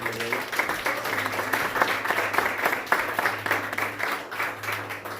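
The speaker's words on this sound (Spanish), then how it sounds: "Denle un aplauso fuerte al Señor." A congregation at a Spanish-language church service applauds steadily, dense clapping filling the room for several seconds with a low hum underneath.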